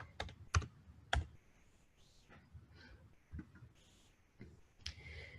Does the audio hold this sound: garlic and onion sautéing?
no